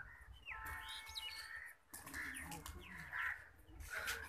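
Pigeons in a loft in Faisalabad, Pakistan chirp and call in short bursts at close range, with rustling and fluttering in between and a faint voice in the background.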